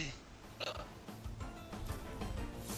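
A short burp rises over quiet game-session background sound, brief and close to the microphone.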